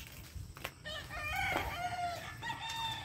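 Chickens at a poultry farm cluck and a rooster crows, several overlapping calls heard at a moderate distance over a low rumbling background.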